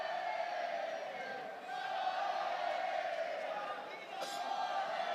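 A large stadium crowd at the Kings World Cup roars in a steady, distant wash of cheering and chanting, swelling and dipping slightly, with a few brief shouts standing out.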